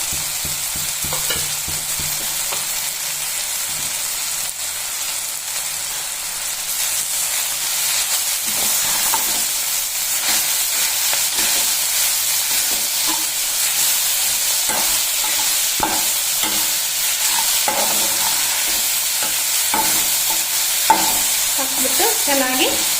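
Chopped fenugreek leaves fry in a salted, turmeric-laced tempering while being stirred, a constant loud sizzle broken by repeated scraping strokes of a spoon against the pan.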